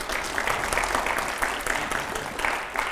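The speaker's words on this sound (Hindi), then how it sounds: "जोरदार तालियां हो जाए जरा" Loud audience applause during a televised political interview, a thick continuous roll of many hands clapping with crowd noise, steady and close throughout.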